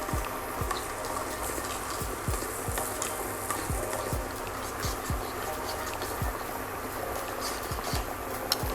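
Water boils with soap base melting in it, a steady bubbling hiss broken by regular scraping stirs of a utensil against the pot, close by with no clear talking.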